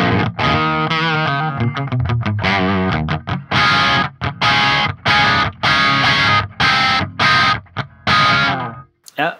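A mid-gain electric guitar played through an STL Tonehub PVY Vector amp model with no pedal plays chugging riffs and chords in a crunchy, broken-up overdriven tone, with rapid palm-muted stabs giving way to sustained chords and short gaps, loud and upfront.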